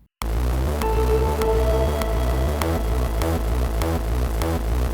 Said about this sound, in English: let's step record a synth bass line that will serve as an ostinato